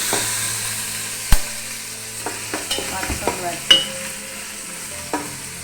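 Green chillies, curry leaves and ginger frying in a pan give a steady close sizzle, broken by a few sharp clinks and scraping strokes of a stirring utensil, with no voices.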